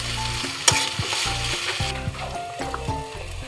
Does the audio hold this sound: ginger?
yes